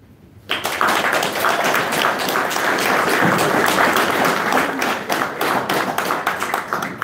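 Audience at a New Tecumseth political debate breaks into loud, sustained applause after a brief quiet start, dense clapping continuing steadily to the end.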